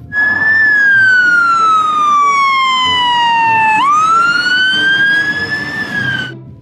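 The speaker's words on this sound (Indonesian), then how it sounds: "Pemadam kebakaran." A toy fire truck's electronic siren wails loudly and close, one long tone sliding down and then sweeping back up before cutting off, heard alone without speech.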